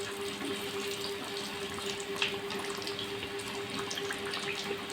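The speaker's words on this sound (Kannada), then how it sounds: "ಗೋಲ್ಡನ್ ಬ್ರೌನ್ ಬರೋವರೆಗೂ ಇದನ್ನು ನೀಟಾಗಿ ನಾವು ಫ್ರೈ ಮಾಡ್ಕೋಬೇಕು" Vegetable puffs, made bakery-style without butter, ghee or Dalda, fry in oil with a steady, dense sizzling hiss that holds constant and close throughout, with no talking.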